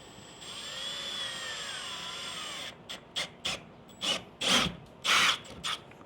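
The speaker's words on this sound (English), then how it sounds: "So drill your holes that you had marked." A power drill whines steadily at close range for a few seconds, then fires in several short, sharp bursts with brief pauses between them, drilling holes in a Pelican kayak to mount a paddle holder.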